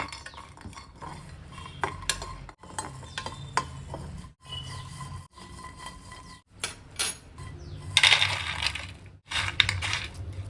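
Spices rattle and scrape against a hot metal kadai while being dry-roasted for homemade asafoetida (hing) powder, with repeated clinks and stirring scrapes coming in uneven bursts.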